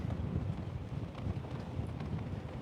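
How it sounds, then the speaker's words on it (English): Strong wind buffeting the microphone during a town walk in Yubari, Hokkaido, a steady loud low rumble of gusts with no speech. "God, the wind is strong"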